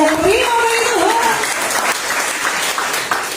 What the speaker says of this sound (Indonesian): Yang percaya tepuk tangannya, terima dari Tuhan.